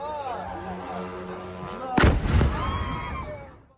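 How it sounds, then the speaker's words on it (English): A drone crashes to the ground nearby and explodes in one sharp, loud blast about halfway through, followed by a rolling boom that fades out, with a faint siren-like wail in the background. "watching a drone crash to the ground nearby with a loud explosion"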